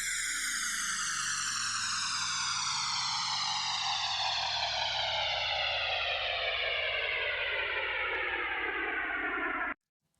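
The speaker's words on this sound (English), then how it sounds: "in this video I will show you how to create this downlifter / riser FM effect." FM-synthesized downlifter built from sine waves in Ableton Operator: a dense, buzzy sweep glides steadily downward in pitch for about ten seconds, loud and alone, then cuts off abruptly.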